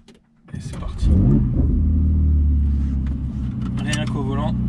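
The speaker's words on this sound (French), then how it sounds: "on appuie sur le frein, on appuie sur Start Engine." A Ferrari 488 Pista's engine cranks and catches after a brief quiet moment, then settles into a loud, deep idle with a throaty rev, while someone talks over it.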